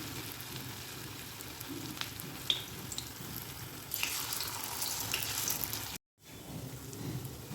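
Besan batter fritters sizzle and crackle steadily in hot oil, a dense continuous frying hiss that swells louder midway, briefly cuts out, then resumes, with faint clinks of a utensil and no talk.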